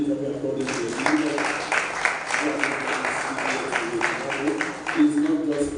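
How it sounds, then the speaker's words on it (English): An audience at a creative writers and readers bootcamp claps for a speaker, with a moderate, even patter of hands that continues throughout, while a voice talks over the clapping. "And please can we applaud him greatly?"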